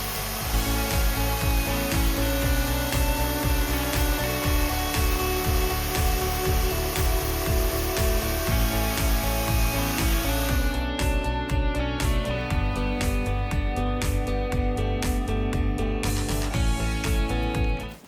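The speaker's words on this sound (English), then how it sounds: "Even on a larger piece of wood, the Makita keeps cutting confidently." A loud Makita UC4041A electric chainsaw buzzes continuously with a rapid chattering rhythm as it bites through a thick log, the tone changing sharply partway through the cut.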